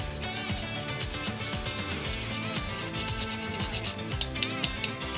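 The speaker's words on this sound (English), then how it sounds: "this is a whole nutmeg, which is better than a powdered one. Okay, so you can just use a grater like this." Whole nutmeg rubbed against a grater, steady close rasping strokes in a continuous scratchy rhythm with a few sharper taps near the end, no talking.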